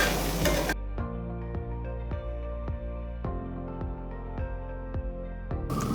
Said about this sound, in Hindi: बीच बीच में आपको प्लेट हटा के इसको हिलाना भी पड़ेगा, कहीं आपकी भिंडी जल ना जाए।